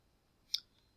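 A single computer mouse click, short, sharp and fairly faint against near silence, landing once in the middle.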